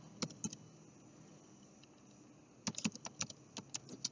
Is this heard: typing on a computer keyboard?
yes